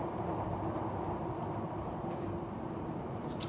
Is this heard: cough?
no